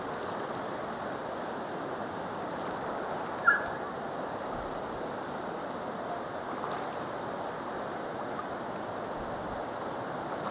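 Steady rush of the Bald River flowing in a Tennessee forest, a constant broadband wash of moving water heard up close, with a single brief tap partway through.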